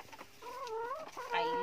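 Hens cluck and warble on an organic egg farm, with a few drawn-out rising and falling calls heard close by and no talking.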